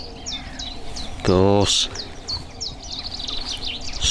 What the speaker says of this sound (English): birds doing their thing